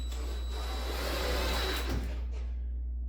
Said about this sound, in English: I'm just gonna go through and run these screws into these staple holes that are everywhere